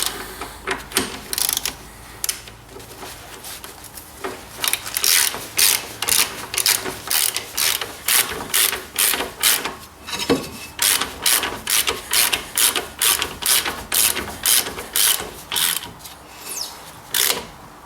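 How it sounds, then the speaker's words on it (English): Ratchet wrench tightening bolts on the rear brakes of a 2007 Ford Ka, a long series of rhythmic back-and-forth clicking strokes repeated steadily and close up, with no speech. "Starting with the ratchet."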